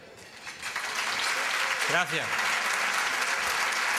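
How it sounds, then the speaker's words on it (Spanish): Seated attendees at a football history convention applaud steadily, a warm even wash of clapping that swells in and holds, with someone briefly speaking over it. "pido un fuerte aplauso para ellos"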